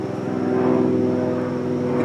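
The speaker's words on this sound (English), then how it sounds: "Look at the airplanes. There's an airport only a couple miles that way." A steady propeller-like drone of airplanes flying near an airport a couple of miles away fills the air, a continuous even hum with no talking.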